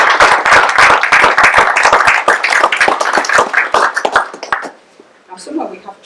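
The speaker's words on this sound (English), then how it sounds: "can we have a big round of applause for" Guests at a wedding ceremony break into loud, close applause right after the vows, dense clapping that lasts about four seconds, then fades and gives way to quiet murmuring voices.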